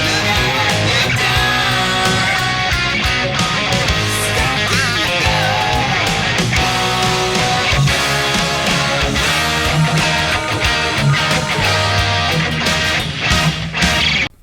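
Dense electric guitar pre-chorus from a song, busy driving riffing inside a full loud band mix, continuous and unbroken from start to finish.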